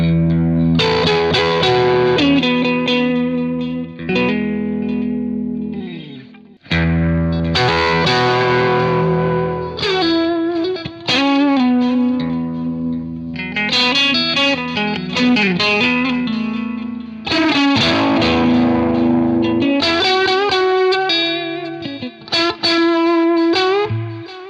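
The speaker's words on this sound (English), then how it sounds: "So I'm gonna have the harmonic tremolo and add some delay in post." Distorted electric guitar plays chords and lead lines through a harmonic tremolo effect with added delay, pulsing and wavering with trailing echoes, loud and continuous with brief pauses.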